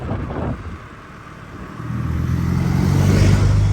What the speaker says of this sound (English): Crop sprayer, I think.